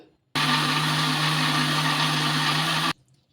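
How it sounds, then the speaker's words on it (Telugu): A mixer grinder blending instant bun dosa batter whirs loudly at a steady pitch for a couple of seconds, then cuts off abruptly into quiet. "ఇలా మూత పెట్టేసుకొని ఇంకా మిక్సీ పట్టేసుకుందాం"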